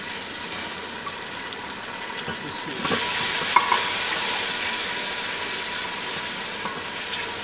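Tomatoes tipped into a pan of golden-brown onions frying for a potato and cluster-bean sabzi, a steady hiss that swells into a louder burst of sizzle as they hit the hot oil, with light stirring, close and without talk.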